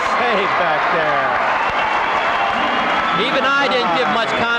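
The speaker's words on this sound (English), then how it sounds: "Listen to this crowd appreciate those plays." Dense, continuous applause and cheering fill the gym at a 1986 Pali vs Malibu volleyball final in Minneapolis, with yells swelling near the end over the constant clapping.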